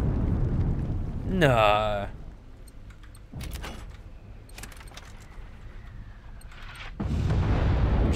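Artillery shells from machines land in the game Generation Zero, heavy booming blasts arriving in a few separate bursts amid quieter rumble, with a short spoken remark in between.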